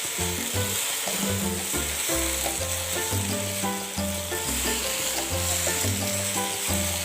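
Vegetables for chicken chow mein sizzle loudly in a hot pan as they are stirred, with steady frying hiss and repeated rhythmic scraping and clanking of the utensil against the pan, no voices.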